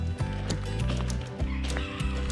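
A Nigerian Dwarf goat runs across wet, slushy ground, its hooves making a rapid thudding beat much like a horse's clip-clop, close and steady.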